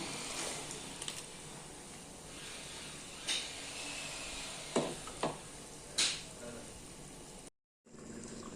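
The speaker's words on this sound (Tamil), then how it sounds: "நல்லா கொதிச்சிச்சு சூப்பு" Soup made with meat, vegetables and ground root boils in a pot, giving a steady low bubbling hiss throughout, with a few clinks and knocks on top.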